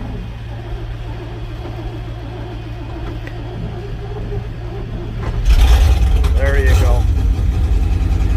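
A snow-removal machine's engine fires up with a rising rumble about five seconds in, then settles into a loud, steady idle, with someone speaking briefly over it.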